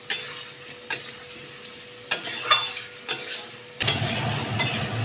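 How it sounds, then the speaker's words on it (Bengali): Spice paste for a prawn and potato curry is stir-fried in a pan, with sharp scraping stirs at intervals over a low, steady sizzle that swells louder near the end. "মশলাটাকে খুব ভালো করে আমি এখন কষাচ্ছি"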